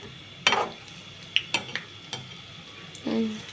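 Vegetables frying in a pan and being turned over, a low sizzle broken by a few crisp clicks and scrapes of a utensil against the pan, close and quiet.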